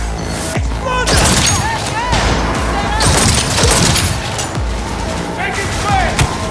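Gunfire and explosions from combat in the video game Cyberpunk 2077, a dense, loud barrage of shots and booms running throughout, mixed with shouted voices and game music.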